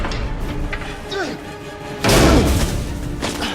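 Layered impact hit sound effects built for the racing game Need for Speed: The Run, with big booming thuds and slam-like crashes. One loud heavy hit lands midway and rings out, amid other low impacts.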